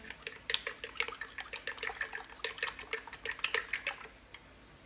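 Chicken broth mixed with flour is poured over a savory Philly cheese steak and potato pie filling in a pan, giving a soft, irregular trickling and splashing that runs throughout.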